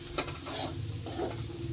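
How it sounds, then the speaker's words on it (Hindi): Spices get mixed into chickpeas and bitter gourd frying in a pan, soft spoon scrapes and shuffling over a steady low sizzle and hum, close and fairly quiet. "अभी सभी मसालों को हम अच्छे से मिक्स करेंगे।"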